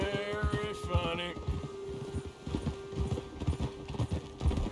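Horse hooves clip-clopping at a steady walking rhythm in the video game Red Dead Redemption 2, fairly close, under ongoing character dialogue and a soft musical tone.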